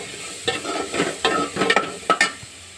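Garlic and small onions sautéing in a pan for a Madurai-style dried-fish kuzhambu, with loud close sizzling and a quick series of spoon scrapes and stirs.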